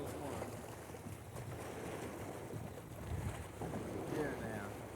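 Wind blowing over a small fishing boat on open water, a steady low rumbling buffet against the microphone with faint water sounds, quiet throughout.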